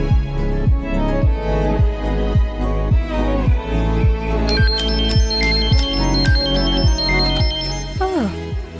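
A mobile phone rings with an incoming call, playing a loud, bright repeating ringtone melody over a steady pulsing beat, close and continuous, with no talking over it.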